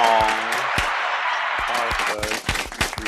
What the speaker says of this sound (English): I want to acknowledge you for that and give you applause of my own.